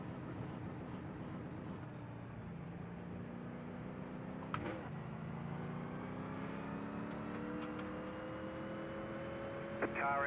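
Race car engine on an oval track in iRacing, a steady droning tone climbing in pitch as it accelerates, with other cars audible around it and brief radio chatter from a spotter over the engine.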